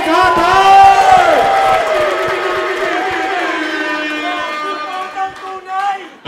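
A large audience at a rap battle competition shouts and cheers loudly, a dense roar of whoops and yells that swells early and then slowly eases, with scattered clapping underneath.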